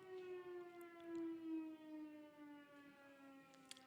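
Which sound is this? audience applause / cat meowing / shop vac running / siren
siren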